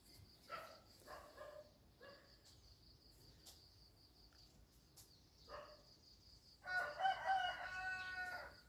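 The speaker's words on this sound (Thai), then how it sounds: "ไก่ร้องละตื่นได้แล้ว" Faint, distant rooster calls come in scattered bursts over quiet background noise, ending in one longer, louder crow near the end.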